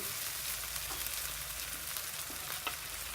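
Dry spices frying in hot oil for a Bangladeshi koi fish curry: a soft, steady sizzle with faint crackles, rather quiet and close, with no voices.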